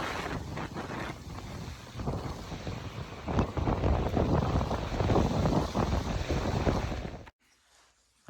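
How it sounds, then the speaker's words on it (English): Strong gusting wind of about 45 to 50 mph roars past twin air blades spinning outdoors, a loud, steady rush of wind buffeting the microphone that cuts off abruptly near the end. "It's probably 45 to 50 mile an hour winds out there."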